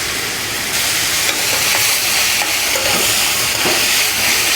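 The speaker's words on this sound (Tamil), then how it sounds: "ரெண்டு தக்காளி கட் பண்ணி வச்சுருக்கேன் அதை சேர்த்துக்கலாம் சேர்த்து நல்லா வதக்கிக்கலாம்" Onions and tomatoes sautéing in a pan for bottle gourd toor dal kootu, giving a loud, steady hiss and sizzle with faint stirring scrapes, close up and continuous with no voices.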